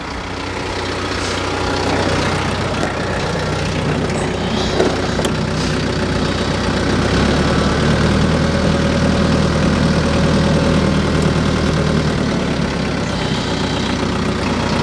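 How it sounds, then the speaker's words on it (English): A heavy, roughly 7,000-pound piece of equipment idling, its engine a deep, steady rumble held close and loud throughout with no change in pace and no talking. "This is the engine, which is pretty heavy."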